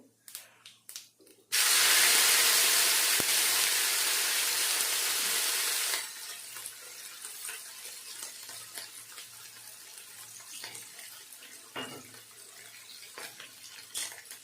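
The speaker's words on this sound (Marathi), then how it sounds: "आता ही पेस्ट छान परतून घेते" A loud burst of hissing sizzle as garlic and chili paste hits hot oil with cumin, settling into a steady, quieter crackling fry with occasional clinks.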